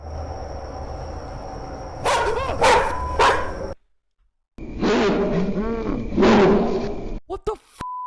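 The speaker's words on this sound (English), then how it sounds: "Why was that dog so loud, man?" A dog barks loudly in the karaoke video game The Karaoke ヒトカラ, two bursts of several harsh, close, roaring barks split by a brief silence, with a voice also audible.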